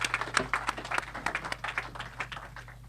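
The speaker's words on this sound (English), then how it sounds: "And your big round of applause, Dr. Sohail Chughtai." An auditorium audience at an inauguration ceremony claps for a speaker, producing a few seconds of moderately faint, scattered applause from many hands.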